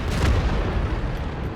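A tank's artillery shot in World of Tanks lands as a deep, loud boom with a long rumbling tail that fills the short stretch, with no other sound on top.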